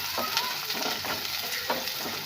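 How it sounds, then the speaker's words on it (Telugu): Onions frying in a pan, a close, steady sizzle with soft scraping strokes of stirring repeating every half second or so, no voices. "మంచి కలర్ వచ్చేంత వరకు అయితే ఉల్లిగడ్డలు ఫ్రై చేస్తాం."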